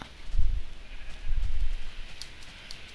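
Sheep in Minecraft bleat twice in quick succession, low and moderately close, followed by quieter background tones.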